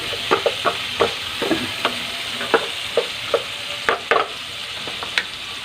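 Chicken stir-fried with button mushrooms in a seasoned pan, a steady sizzle broken by regular scrapes and clacks of the spatula against the pan, close and fairly loud.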